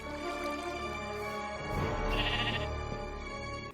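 A sheep in the Minecraft video game bleats in a drawn-out, wavering cry that swells in the middle, heard alone and fairly close.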